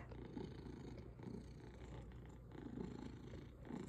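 A cat purrs softly and close by in a quiet room, a low rhythmic rumble that swells and fades with each breath, alone without talk.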